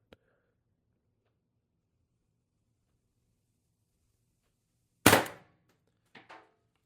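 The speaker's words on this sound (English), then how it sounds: "I'm going to shoot for the top left target." A single sharp shot from a Umarex TR50 air rifle, a loud crack followed by a short metallic thwack at the target a moment later, in an otherwise quiet setting.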